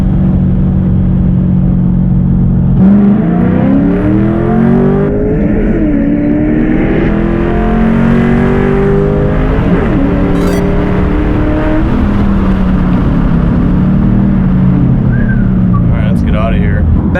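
Stage 2 bolt-on car accelerates hard from 20 to 80 mph, engine rising in pitch through several gear shifts with a loud, close, steady roar.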